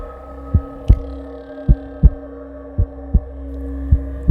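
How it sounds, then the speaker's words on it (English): Slow, deep heartbeat thumps pound at a steady pace over a low droning hum, each beat a soft, muffled throb, about eight in all. "I could hear my heart pounding in my ears."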